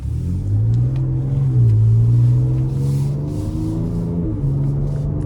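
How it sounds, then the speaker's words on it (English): A 2025 Ford Ranger Raptor's engine and exhaust in sport mode rumble deep and loud from the cabin, rising in pitch as it accelerates, dipping briefly, then pulling again, with a steady throaty drone. "I just love the sound of the exhaust"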